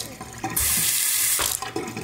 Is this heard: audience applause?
no